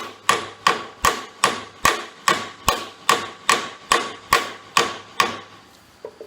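About a dozen sharp, evenly spaced hammer blows ring out close by, striking to drive a stud out of the cracked steering assembly on a John Deere M tractor, then stop.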